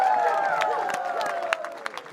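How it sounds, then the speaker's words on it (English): A crowd at an Indian king chili eating competition applauds the champion, a brief patter of claps and murmur beneath a loudspeaker voice and a ringing tone. "Give him a round of applause."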